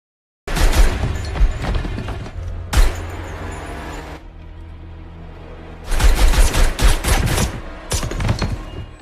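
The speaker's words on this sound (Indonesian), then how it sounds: "langsung melepaskan tembakan ke atas tempat tidur" Loud bursts of film gunfire crack out in rapid clusters, fired at a bed, with a pause of lingering rumble between volleys before another intense barrage.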